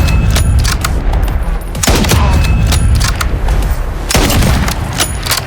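Loud gunfire from a sniper rifle in Call of Duty, with heavy booming shots and rumbling echoes spaced roughly two seconds apart, close and forceful.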